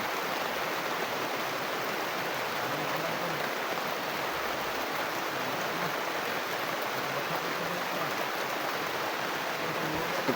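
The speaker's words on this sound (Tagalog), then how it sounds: "Ulan lang to." Rain pours down outdoors as an unbroken, even wash of hissing noise, constant and fairly loud, with no voices.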